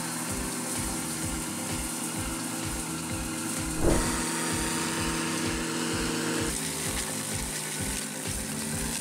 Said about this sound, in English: Bobcat forestry cutter. This efficient attachment cuts, grinds and mulches trees within minutes.